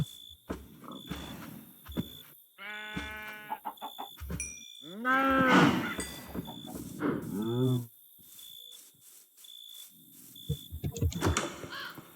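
Several video game cattle moo loudly in a row, long drawn-out lowing calls, with a steady high electronic tone and scattered clicks running underneath.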